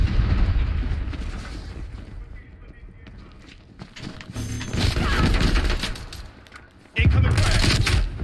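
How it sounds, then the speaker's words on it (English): Bursts of automatic gunfire and heavy impacts in a Call of Duty Black Ops Cold War multiplayer match, loud and dense with a sharp surge near the end, mixed with players talking. "Incoming fire."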